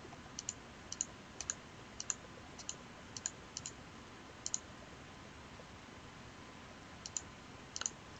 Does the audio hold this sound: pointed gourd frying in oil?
no